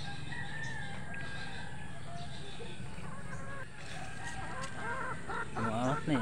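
A pet rooster clucks and crows close by amid other farmyard fowl noise, with a person talking over part of it.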